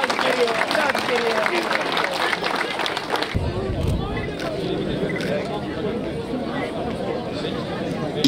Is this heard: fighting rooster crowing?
no